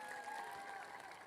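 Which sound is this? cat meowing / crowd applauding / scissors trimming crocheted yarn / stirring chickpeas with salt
crowd applauding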